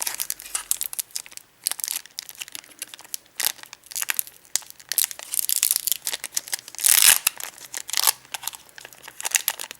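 A foil Pokémon card booster pack is torn open from the bottom, giving irregular crinkling and ripping bursts of thin foil close to the mic, with a louder tearing rush near the end.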